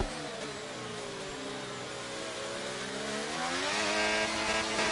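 An F1 race car engine in F1 23 screams under acceleration, its high whine climbing in pitch and growing louder over five seconds, alone and close.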